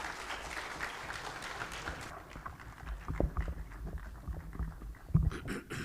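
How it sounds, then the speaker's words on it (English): At the ARSO General Assembly, an audience applauds the Deputy President of Kenya; faint, distant clapping fills the first two seconds and then dies away into scattered footsteps and room noise. "A hand of applause, please."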